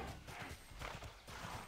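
Horse hooves clip-clop at a steady trotting rhythm while riding a mount in the video game TERA Online, close and fairly loud, with no voices.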